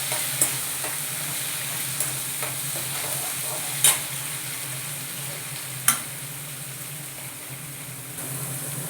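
Green chillies sizzle and fry in a pan, stirred with a utensil that clinks against it several times. The sizzle stays steady and close throughout, with no talk.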